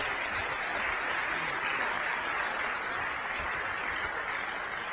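Audience applause fills a conference session hall at a Qt developer event, a steady dense wash of many hands clapping for the full stretch, fairly distant and even with no break.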